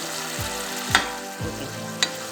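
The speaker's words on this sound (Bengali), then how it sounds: "ডিমগুলো একটু খুন্তি বা আপনি হাতা দিয়ে একটু কেটে কেটে দেবেন, তাতে কি মশলাটা ডিমের মধ্যে" Eggs frying in a masala curry are chopped with a spatula, giving a soft continuous sizzle broken by a few scraping strokes and three or four sharp metallic taps of the spatula against the pan, close and fairly quiet.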